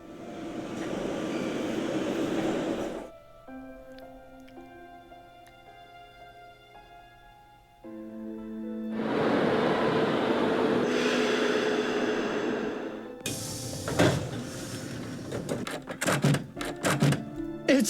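A metro train in the Nancy Drew game Secret of the Scarlet Hand, with steady rumbling and rolling noise, broken by tonal hums and ending in clattering, rattling bursts.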